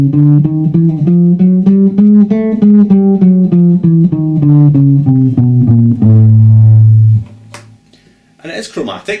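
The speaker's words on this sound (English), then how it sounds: "Okay, now here's a 1-octave chromatic scale starting on the note of A." A one-octave chromatic scale starting on A, played as a string of about fifteen clear, evenly spaced notes stepping up and back down, ending on a long held tone, followed by brief faint noise.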